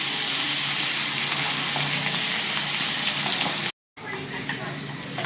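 Masala-stuffed brinjal frying in oil, Karnataka style, a strong steady sizzle that cuts out for a moment and returns slightly quieter.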